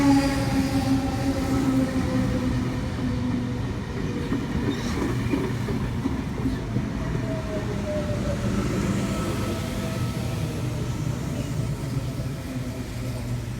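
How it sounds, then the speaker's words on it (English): A Sydney suburban train from the Blue Mountains pulls into a platform at Penrith station, with a loud, steady rumble of wheels and motors and a brake squeal that slowly falls in pitch. No voices are heard. "service to Central from the Blue Mountains, now arriving into platform 2."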